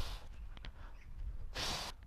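A forceful exhale during an ab crunch comes as short breathy puffs, then one strong, close, hissing blow of air near the end, quiet otherwise.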